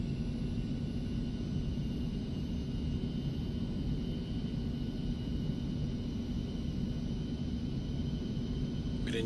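In a flight simulator, an airliner rolls along the runway after touching down, giving a steady, moderate rumble of engine and wheel noise with a faint high whine above it, continuous throughout with no talk.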